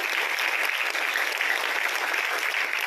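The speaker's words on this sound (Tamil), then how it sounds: "செல்வி ரினுஷா சத்யசீலனுக்கு மீண்டும் ஒரு முறை உங்களின் பலமான கைத்தட்டங்கள்" Audience applause following a Bharatanatyam dance performance, a continuous even roar of many hands clapping at a moderate distance, with no break across the short stretch.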